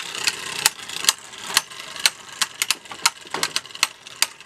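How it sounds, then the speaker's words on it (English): Beyblade Burst Evolution spinning tops battle in a stadium, with a steady whirring rattle broken by frequent sharp metallic clacks as the tops collide, irregular but rapid and close. "let's actually try to get a battle going on with these"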